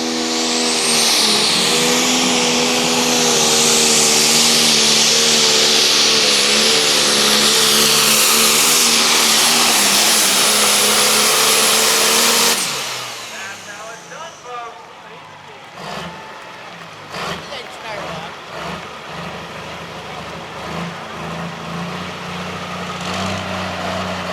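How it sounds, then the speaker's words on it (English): A turbocharged pulling tractor engine roars loud and steady for about twelve seconds at a truck and tractor pull, revving with a sustained high whine, then cuts off abruptly, leaving crowd noise and scattered bangs. "he'll build up the RPMs in that engine, get that turbocharger pressurized"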